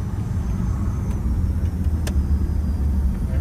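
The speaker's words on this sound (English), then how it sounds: "That's South Florida traffic." Car engines and road noise in South Florida street traffic, a steady low rumble of vehicles nearby with a couple of faint clicks, no talking.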